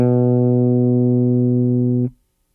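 A bass guitar plays a slid grace note that lands on one sustained, loud note, ringing steadily for about two seconds before it is cut off abruptly into silence.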